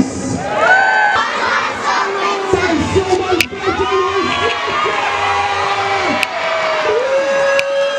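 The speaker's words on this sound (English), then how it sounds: "Tell them a big cheer for Miss Lewis!" A crowd of adults and children at a Christmas lights switch-on in Kilbarchan cheers loudly, with whoops, shouts and excited voices blending into a sustained roar that carries on throughout.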